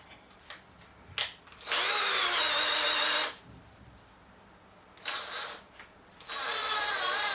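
A power drill whirs in two sustained bursts while a tribute helmet prop is being built, with brief clicks and handling noises in the quiet gaps between runs.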